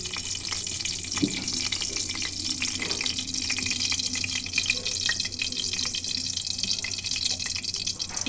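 Oil and ghee sizzling steadily in a pan while chana dal is cooked, a continuous close, bright crackle with small spits and pops, no voices.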